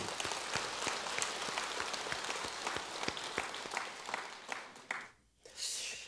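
Temple congregation applause for volunteers at Jogyesa, many hands clapping in a crackling roomy wash that thins out and briefly drops away before a final burst.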